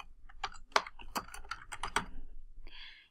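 Soft, close typing on a computer keyboard, with a quick run of distinct key taps and clicks, then a short higher-pitched scratchy sound at the end.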